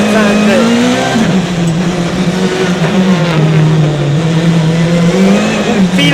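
A Hyundai i20 Coupé WRC Plus rally car on a circuit: its engine roars loud and close without a break, the pitch climbing and shifting as it accelerates hard.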